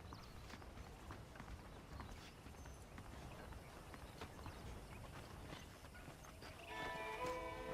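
Horse hooves clip-clop at a steady walking rhythm in the Western video game Red Dead Redemption, soft and close over a quiet ambient background, with a brief brighter sound near the end and no talking.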